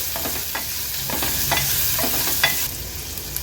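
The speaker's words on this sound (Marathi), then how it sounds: "आता ही फोडणी व्यवस्थित आपण मिक्स करून घेणार आहोत" A tempering with crushed ginger and garlic sizzles steadily in a pan while a utensil stirs and scrapes the bottom in irregular strokes, close up and without speech.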